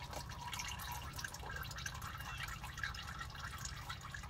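Engine oil draining from a 2011 Acura MDX into a pan, a faint, continuous trickle with scattered drips over a low background hum.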